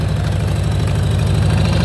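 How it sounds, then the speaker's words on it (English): A motorcycle engine runs steadily at low speed during slow riding practice, a close, even, throbbing idle-like pulse with a deep rhythmic beat throughout, no voices. "Listen to his engine."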